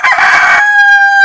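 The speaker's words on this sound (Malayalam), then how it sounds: "അപ്പോൾ നവനീത ഇയാളോട് കൂവാൻ പറഞ്ഞു കഴിഞ്ഞാൽ അദ്ദേഹം കൂവോ?" A rooster crows loudly and close, its call starting rough and then settling into a long, steady, held tone that fills the whole short stretch without voices.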